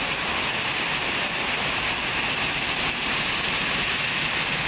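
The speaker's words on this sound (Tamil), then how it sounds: "இடி மின்னலுடன் கனமழை பெய்தது" Heavy rain pours down in Tamil Nadu amid a thunderstorm, a loud, dense, unbroken roar of water on surfaces that holds at the same level throughout, with no voices.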